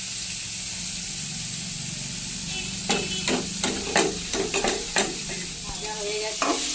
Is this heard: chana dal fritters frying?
yes